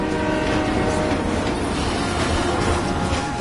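Train from the Splinter Cell video game rumbling steadily and loudly throughout, a continuous rail roar with faint clattering and no talk.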